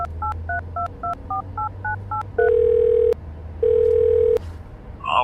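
A phone call being placed: a quick run of touch-tone dialing beeps, then two long ringback tones in the earpiece, clear and close with no talking.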